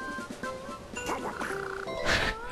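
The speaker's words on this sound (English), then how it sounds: "I love it, it sounds like Donald Duck." A Pokémon cry in PokePark Wii that resembles Donald Duck's voice, a nasal quacking warble rising and falling over a couple of seconds amid light game music.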